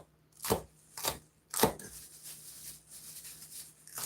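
Garden plants being cut by hand, heard as three sharp, close snips about half a second apart, followed by softer rustling and handling of the stems.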